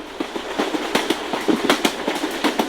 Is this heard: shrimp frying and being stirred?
no